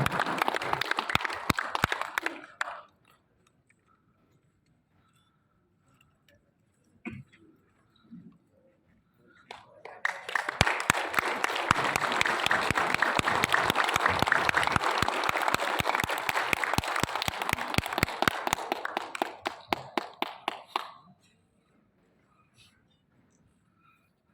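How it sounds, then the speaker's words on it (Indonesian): An audience at an inauguration ceremony for a newly elected chairman applauds in two bursts: a short round at the start, then after a quiet gap a sustained round of clapping for about ten seconds before falling silent. "Hadirin kita sambut dengan tepuk tangan dengan memberikan semangat kepada Ketua Umum terpilih Bapak Go Sikian."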